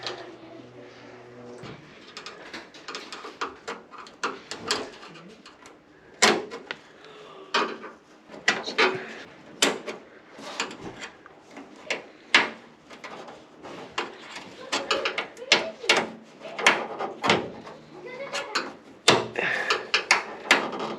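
Felt window channel springs on an early 40 series door are pushed up and clipped into their holes, giving a scatter of sharp plastic clicks, knocks and rattles, close and irregular, with small handling noises between.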